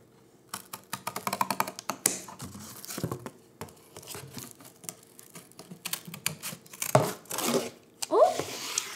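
Scissors snipping through paper while cutting out a weaving piece, a quick run of close crisp crunching snips and crinkles in uneven bursts, with a few soft rustles between.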